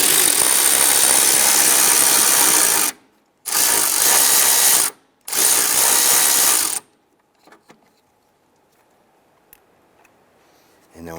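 Three loud, sustained whirring bursts of a power tool loosening a 10 mm bolt on a 1995-2001 Ford, separated by brief pauses, then quiet with faint clinks and rustling.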